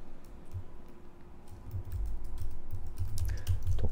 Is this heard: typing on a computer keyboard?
yes